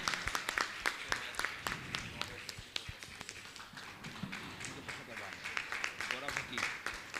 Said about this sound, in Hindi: जोरदार जोरदार ताली बजाकर इनका सम्मान करें।